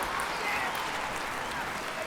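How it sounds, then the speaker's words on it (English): Steady broadband crowd roar from a London 2012 video game, a dense cheering wash held at an even level throughout, with a commentator voice faintly present underneath. "The crowd go wild and they respond."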